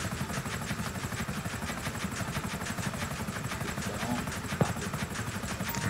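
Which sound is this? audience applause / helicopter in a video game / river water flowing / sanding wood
helicopter in a video game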